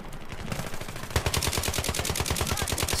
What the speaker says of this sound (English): Oh my god, I'm being shot at.